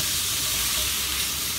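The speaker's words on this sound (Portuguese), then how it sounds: "Agora a gente vai fritar o bacon." Bacon fries in a pan with a dense, loud, continuous sizzle and crackle, steady and close with no voices.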